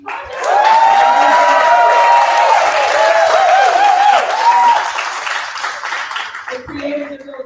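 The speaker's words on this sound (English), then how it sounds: "I would also like to give a rousing round of applause and shout outs to members of the SNCC Legacy Project" An event audience applauds and cheers: a burst of steady clapping with whoops and shouts rises quickly, holds loudly for about four seconds, then fades as a voice speaks over the tail.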